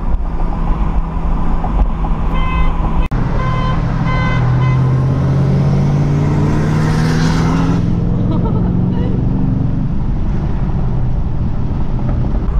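Ford Mustang with a 3-valve V8 accelerating hard in a race, loud engine roar rising in pitch through the gears from inside the car, with a brief click partway through and the noise dropping away near the end.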